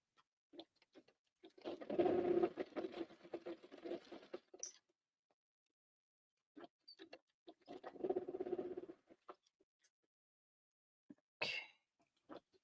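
A sewing machine stitching fabric for a luxe cuddle coat, two runs of fast rhythmic whirring stitching separated by pauses and scattered clicks, close and fairly quiet, with no talking.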